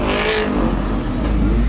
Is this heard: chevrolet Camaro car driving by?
yes